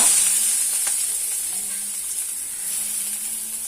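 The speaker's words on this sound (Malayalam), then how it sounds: "സവാള, പച്ചമുളക് എന്നിവ ഇട്ട് കൊടുത്ത് നല്ല പോലെ ഒന്ന് വഴറ്റിയെടുക്കാം" Chopped onion and green chilies sizzling in hot oil for a Kerala-style mushroom dish, a loud, even, continuous frying hiss close by with a faint low hum underneath and no speech.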